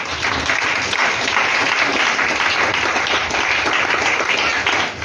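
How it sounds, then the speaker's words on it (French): A church congregation claps and cheers together in acclaim, a dense, loud, continuous burst of applause filling the room for several seconds. "Acclamons le Seigneur."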